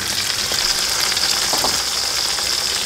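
Tomatoes and green chillies are added to golden fried onions and whole spices in a pot for village-style mutton biryani. They sizzle and fry in a steady, dense hiss, with a few faint stirring scrapes and no voices.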